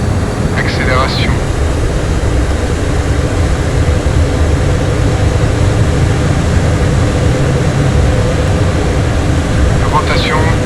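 A Rafale Marine jet engine at full throttle during the takeoff roll in MSFS 2024 gives a loud, steady, broadband roar with a deep rumble that holds unbroken throughout, while someone talks briefly over it at the start and again near the end.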